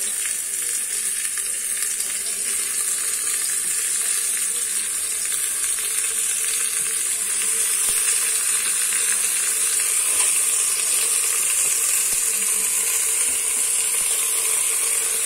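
Meat is laid over onions in a pot, with a loud, dense, continuous frying hiss that holds steady close up throughout.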